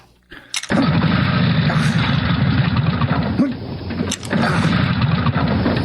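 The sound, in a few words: kickstarting a motorcycle engine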